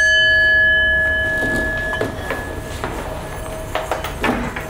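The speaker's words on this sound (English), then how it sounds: "I shouldn't talk while the bell is ringing." A meditation bell sounds, its long tones holding steady and fading over several seconds while faint knocks and shuffles come through underneath.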